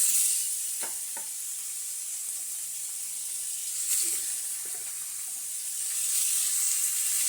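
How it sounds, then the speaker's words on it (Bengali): Chicken giblets and liver sizzle and hiss steadily in a hot pan, with a few soft stirring scrapes and clicks over the continuous frying. "মাংসগুলো দিয়ে ভালো করে কষতে থাকবো"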